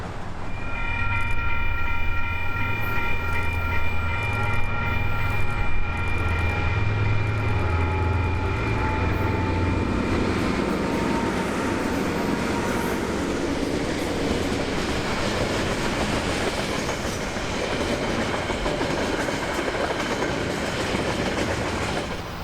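A container freight train rolls past in New Zealand, its horn sounding at first, then a long steady rumble and clatter of wagons with rhythmic clicking on the rails.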